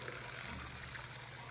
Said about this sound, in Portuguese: A água chegou.